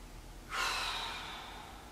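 A deep inhaled breath taken during a palms-out forward bend in a guided core exercise, a single close, airy rush that starts abruptly and slowly fades over about a second and a half.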